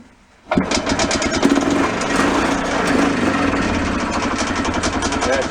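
A golf cart engine with an exhaust leak cranks and catches after a moment of silence, then runs steadily in a loud, close, buzzing idle.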